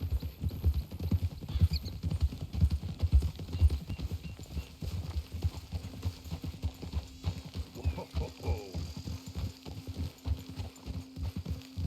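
Horse hooves in Red Dead Redemption 2 clip-clop at a steady trot, rhythmic and fairly close, with a soft snort midway and faint ambient hum.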